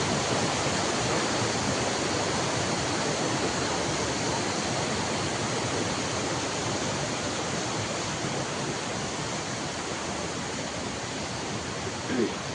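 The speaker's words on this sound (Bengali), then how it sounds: "পাহাড়ের উপরে দিকে পানি পড়তেছে" Water pouring down from a hillside waterfall makes a dense, even roar of rushing water that holds steady and close for the whole stretch.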